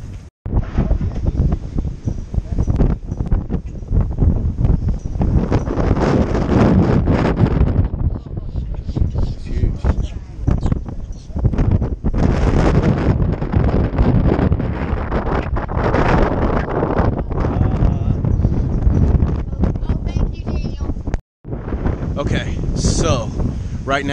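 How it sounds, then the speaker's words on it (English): Wind buffets a microphone outdoors on a blustery day around Tybee Island and Savannah, a loud, continuous rumbling roar with gusty surges, nearly unbroken except for one brief drop near the end, while someone talks under it. "Right now, it's a little windy."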